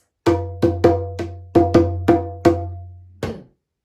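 A close, loud djembe plays a sequence of ringing strokes in a syncopated call pattern, then after a short gap a single answering stroke lands on the beat as the bass-note response and fades out.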